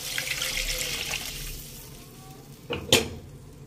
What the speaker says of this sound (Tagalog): mag-add tayo ng 2 cups of water